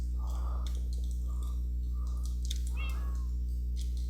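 Several short cat meows from a survival video game, spaced apart over a constant low steady hum, with faint clicks between them.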